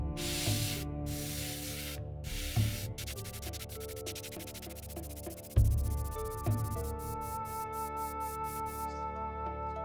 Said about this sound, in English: give it another layer of matte varnish